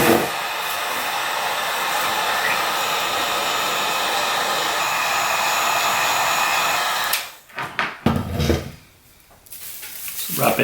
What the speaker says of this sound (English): the heat gun do its job.